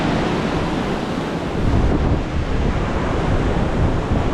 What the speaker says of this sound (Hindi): हवा भी बहुत तेज़ चल रहा है, हवा तेज़ चल रहा है